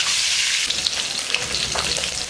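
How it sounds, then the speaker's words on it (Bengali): Tilapia pieces fry in hot oil, giving a steady, close sizzle with small crackles and pops throughout. "ভেজে নিচ্ছি।"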